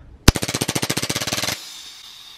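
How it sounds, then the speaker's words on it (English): Glock 23 BB pistol with a switch firing on full auto, one sharp shot followed by a rapid even burst of roughly twenty shots lasting over a second, loud and close, then quiet. "Let's see what that full auto talking about."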